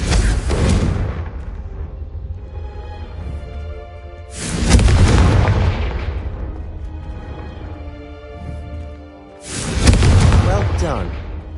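The Confringo explosion spell from the video game Hogwarts Legacy goes off three times, each a loud, close boom with a long rumbling decay, spaced roughly four to five seconds apart.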